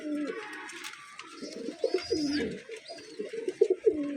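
A pair of Pakistani Golden pigeons coo close by, soft throaty repeated calls in short bursts with no talking over them.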